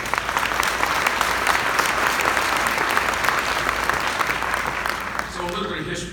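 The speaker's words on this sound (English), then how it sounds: "I know you will give them a round of applause for their efforts" An audience at a medical society meeting applauds staff, steady dense clapping from a large room that holds loud throughout and eases slightly at the end.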